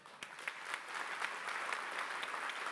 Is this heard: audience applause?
yes